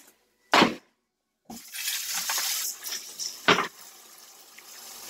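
Vinegar poured over raw chicken in a home kitchen, a splashing liquid stream that starts after a short bump and silence and runs steadily for several seconds, with a sharp knock partway through.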